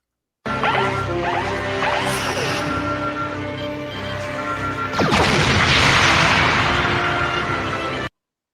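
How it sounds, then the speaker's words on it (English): Starship Enterprise pounded by disruptor fire in a Star Trek radio drama: a rumbling, layered battle bed of ship noise, then a sudden loud crashing impact around the midpoint that swells into a dense, roaring wash of blasts, with no voices. "Flames grow around him as we cut to a shot of the Enterprise being pounded by disruptor fire."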